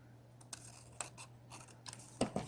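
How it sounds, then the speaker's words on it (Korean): Scissors snipping through orange origami paper during a papercraft session: a few short, crisp cuts scattered across the moment, with two louder, closer snips near the end over quiet room hiss. "여기 부분은 이렇게 가위로 잘라주세요"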